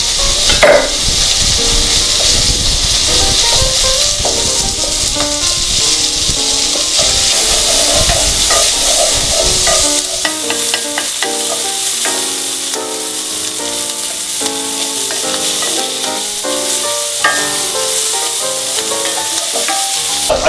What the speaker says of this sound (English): I've got the bacon on the cooktop with the onions, and those are rendering nicely.